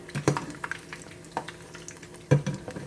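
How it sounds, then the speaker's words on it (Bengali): Potato and onion pakoras frying in hot oil, soft steady sizzle with occasional stirring clinks and scrapes, close and quiet. "এটিকে অল্প আঁচে ভাজতে হবে"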